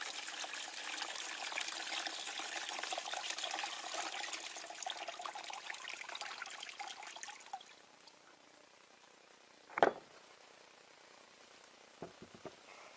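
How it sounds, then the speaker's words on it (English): Acid being poured out of an old 12-volt car battery, a steady trickling pour lasting about seven seconds that tapers off, followed by a single sharp knock and a few faint taps. "Very carefully lift it up, hold it away, and pour the acid out."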